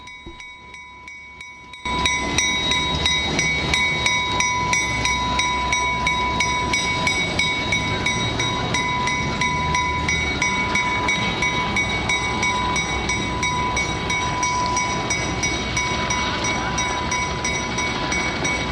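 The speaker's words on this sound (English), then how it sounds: "the NCTM's shop switcher was on hand to move locomotives on and off the turntable" A museum shop switcher locomotive moves an Amtrak unit on a turntable, heard as a near, steady diesel engine drone with ringing metallic tones and regular rhythmic clanks, starting suddenly after a quiet opening and continuing throughout.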